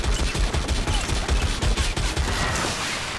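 Enemy machine gunner in Warhammer Vermintide firing a sustained, rapid automatic burst, dense and loud, with steady rattling pulses across the whole stretch and no talk.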